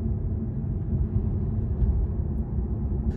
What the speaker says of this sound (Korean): 엔진에서 들리는 소리가 들려요.